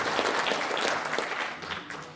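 Audience applause fills a conference hall during a rally in a National Assembly members' building meeting room, with dense, steady clapping throughout and a slight fade near the end.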